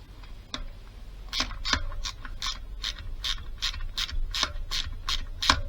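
Ratchet wrench tightening a bolt on an MBK 51 Club moped, with bursts of rapid pawl clicks in short rhythmic strokes, close and fairly crisp, with no talking.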